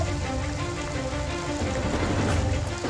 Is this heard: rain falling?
yes